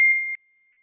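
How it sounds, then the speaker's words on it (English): A single short electronic phone beep during a miso-making session, a steady tone that cuts off abruptly after about a third of a second, followed by near silence. "Sorry, my phone is beeping."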